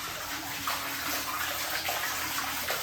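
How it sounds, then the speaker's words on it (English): Water gushes hard and continuously out of a 220-gallon custom African cichlid aquarium during a pumped water change, a loud, close, steady splashing rush with no voices. "Show you how fast this water comes out here."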